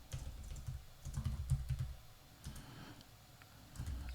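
Fingers tap on a computer keyboard in close, quiet bursts of rapid clicks separated by short pauses.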